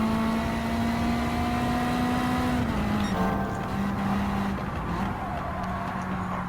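A Honda Civic EG engine drones steadily at high revs on the Tsukuba circuit in Gran Turismo 7, the pitch dipping briefly as it shifts or lifts, then holding again, loud and continuous.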